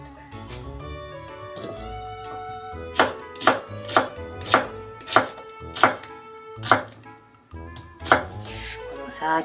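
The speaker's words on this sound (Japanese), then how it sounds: "木のまな板のさ、音がいいよね。" A knife chops food on a wooden cutting board in a home kitchen, with crisp regular strikes that speed into a steady rhythm, close and clear over a soft tonal background.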